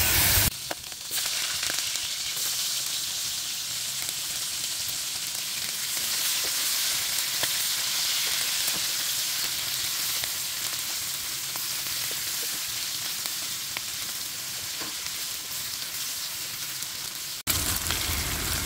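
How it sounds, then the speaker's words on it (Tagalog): Pakbet ingredients sautéing with onion and garlic in a hot pan, a steady loud sizzle filling the whole stretch, with a brief louder burst at the start and end. "Nasangkutsa ko na yung sahog at nilagay ko na rin yung sibuyas at bawang."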